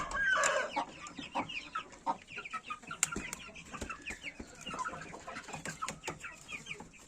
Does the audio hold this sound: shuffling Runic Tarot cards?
no